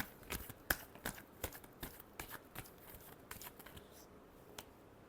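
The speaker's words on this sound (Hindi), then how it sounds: "Last shuffle." Tarot cards being shuffled for a Pisces reading, giving a run of quick, crisp riffling snaps and slaps at an uneven rhythm, close and fairly soft, with no talking.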